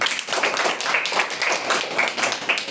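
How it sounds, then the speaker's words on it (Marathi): A crowd claps continuously for winners at a school prize distribution, many hands making dense, even applause that carries through without a break, with no voices over it. "सगळ्यांचं टाळ्या वाजून कृपया अभिनंदन करा"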